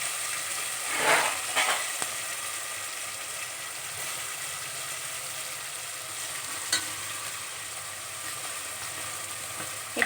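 A ground paste of onion, garlic, ginger and coriander fries in a little oil for avarekalu dal sambar, hissing steadily for ten seconds with a few clacks of a stirring spoon and no voices.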